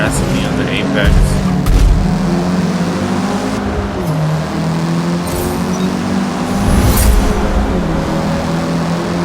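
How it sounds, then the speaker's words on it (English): Racing cars speed past on a track in the video game Forza Motorsport, including a Volkswagen, with a steady loud engine roar swelling as cars go by and someone talking over it. "All these cars are passing me on the apex."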